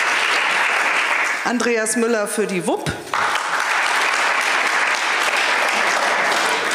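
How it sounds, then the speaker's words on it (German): Audience applause for local election candidates at a 2023 municipal election event in Timmendorfer Strand, steady and loud across the whole clip, continuing under a voice announcing a candidate. "es darf geklatscht werden"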